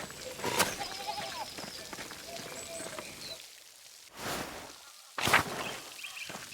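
Sheep bleat in the medieval adventure game Pentiment, a few separate calls standing out over a soft rain-like game ambience, with someone talking in between.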